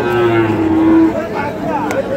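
A Sahiwal bull calf at a rural cattle market in Bangladesh gives a loud, close, sustained moo that tails off, followed by quieter market murmur and a faint second call.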